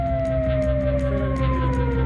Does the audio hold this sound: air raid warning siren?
yes